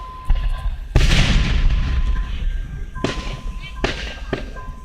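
Fireworks at a Roseville display bursting close by: a sharp crack, then a heavy boom, then several more pops and bangs spaced out over a few seconds, with voices and a steady background tone underneath.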